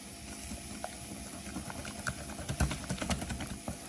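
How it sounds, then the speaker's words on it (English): Rapid clicking and scraping of a whisk beating milk in a bowl, close and busy with irregular metallic taps, building in intensity toward the end. "go ahead and start whisking"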